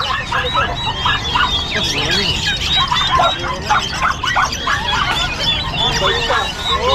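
Ducks at a livestock market make a busy chorus of nasal quacks and chatter, close and fairly loud, with overlapping calls throughout and crowd murmur behind.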